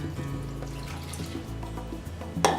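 Warm water poured into a bowl for bread dough, a soft continuous trickling and splashing, fairly quiet and close, ending with a brief louder splash.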